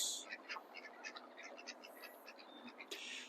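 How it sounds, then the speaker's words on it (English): Ducks quack repeatedly in a quick, uneven series, fairly faint and distant over a steady outdoor hiss. "Say hello to the ducks."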